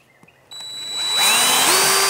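A power drill spins up after a couple of faint clicks, whining steadily and rising in pitch as it bites through a trellis post, close and fairly loud.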